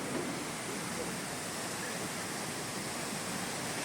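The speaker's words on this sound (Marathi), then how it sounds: "तिथे गेल्यावर हा धबधबा पाहायला मिळतो." A steady, dense rush of falling water, broadband and constant throughout, like a waterfall heard close by.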